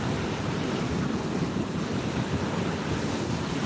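Steady roar of ocean surf mixed with heavy wind buffeting the microphone, continuous and fairly loud with no voices.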